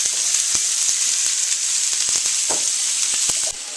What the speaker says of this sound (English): Just gotta grill these onions real nice